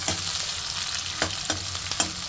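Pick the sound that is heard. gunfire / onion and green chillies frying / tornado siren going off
onion and green chillies frying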